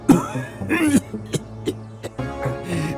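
An ailing king in an animated Bengali comedy coughs in a few short, throaty bursts, close and fairly loud, with brief gaps between them.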